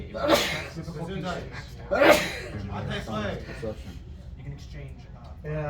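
A single sharp sneeze bursts out near the start, followed shortly by a second abrupt burst, with people talking continuously around them during a Vampire: The Masquerade tabletop game session.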